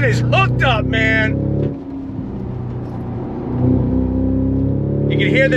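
A 2023 Cadillac CT5-V Blackwing accelerates hard as traction control intervenes, the engine note dipping and surging unevenly between loud pulls, with people talking and exclaiming at the start and end.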